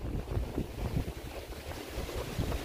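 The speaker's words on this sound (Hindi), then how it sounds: "और मस्त हवा भी यहाँ पे चल रहा है" Wind gusts across the microphone beside open water near Payagpur, a rough low rumbling buffet that swells and fades in uneven waves, close and moderately loud with no one speaking.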